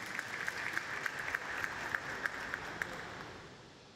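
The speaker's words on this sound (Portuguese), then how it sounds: "Peço também uma salva de palmas" Guests at a formal ceremonial session honoring federal police delegates in Rio de Janeiro clap in a sustained round, with sharp individual claps standing out over a dense wash that slowly fades toward the end.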